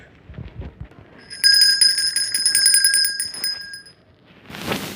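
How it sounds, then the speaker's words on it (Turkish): A bright electronic chime rings out in a sustained, shimmering run of tones, clear and fairly loud, after some faint background bustle, ending with a brief rustle. "anne zil çaldı ben gidip kapıya bakacağım"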